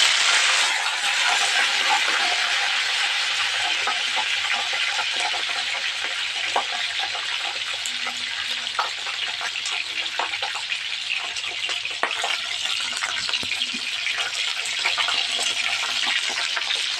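Peppers sizzle in a hot frying pan as they are stirred, a steady crackling hiss with scattered clinks and scrapes of the utensil against the pan, continuing throughout.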